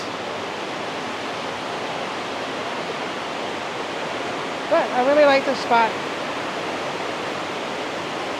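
Water pours steadily from a waterfall beneath a lake dam bridge in a city, a loud, constant broadband rush that continues unbroken while someone speaks briefly over it.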